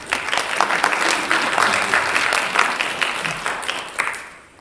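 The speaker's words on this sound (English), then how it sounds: "A round of applause for" Church congregation applauding the choir director and choir members, a lively burst of clapping that swells, holds for several seconds and then tapers off.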